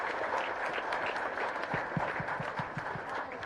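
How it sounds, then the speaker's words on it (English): An audience at a national drone awards event applauds, a steady wash of many hands clapping at moderate distance, with faint thumps beneath. "Please give them a round of applause for answering all these questions."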